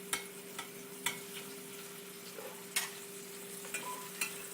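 Chicken pieces in a pan hot from the oven give a faint, low sizzle, punctuated by soft, irregular ticks and pops over a steady background hum.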